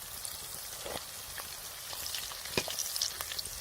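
Chopped onion roasting in oil in a pan for an Indian egg curry, a soft steady sizzle with scattered faint pops and crackles, fairly quiet and with no voices.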